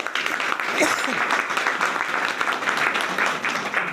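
An audience at a farmers' union gathering claps loudly for visiting officials, a dense burst of applause with voices mixed in.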